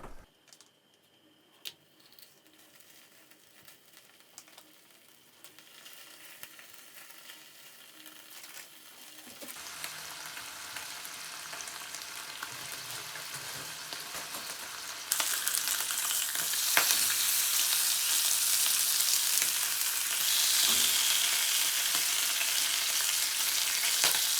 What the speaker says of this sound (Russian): давайте пожарим сначала бекон